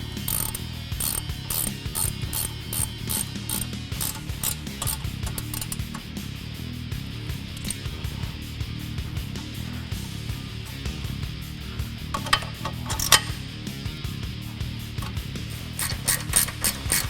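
Ratchet clicking with a socket while bolts are turned on a 2009-2016 Ford F-150 during a leveling kit install, steady busy mechanical clatter and repeated pawl clicks close by throughout, with no talking.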